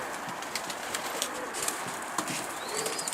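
Homing pigeons coo softly at close range in a loft, with low murmuring calls and a few brief wing flutters and chirps over a steady background hiss.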